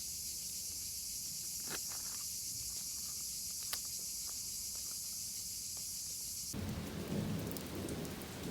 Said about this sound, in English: We had an amazing thunder and lightning storm this night,